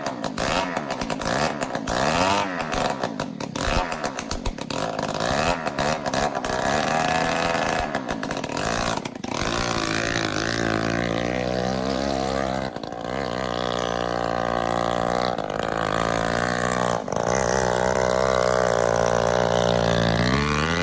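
A Yamaha PW80 dirt bike's small two-stroke engine runs after years of not working, buzzing and rasping close by with uneven revving and brief stumbles, settling into a steadier, higher idle later.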